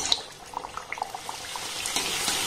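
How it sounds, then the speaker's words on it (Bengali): Luchi frying in hot oil in a kadai, a soft bubbling sizzle with scattered pops and spatters that grows slightly denser toward the end, fairly quiet and close. "এবার তেলের মধ্যে লুচিগুলোকে দিয়ে আমি ভেজে নেব।"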